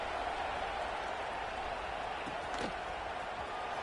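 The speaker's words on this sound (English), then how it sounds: "this crowd is buzzing after that last score." Stadium crowd in a college football video game, Florida versus Michigan, a steady distant roar right after a score, with a couple of brief thuds in the middle.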